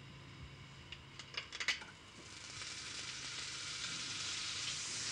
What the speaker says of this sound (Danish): Så pas på, når jeg putter smøret på, at du ikke pludselig får en sprøjte, når panden varm.